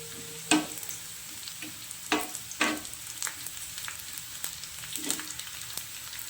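Onions frying for sambar, a soft steady sizzle broken by a few sharp utensil knocks and scrapes against the pan as they are stirred.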